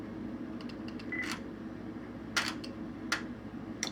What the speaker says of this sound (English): then a second later you will hear the shutter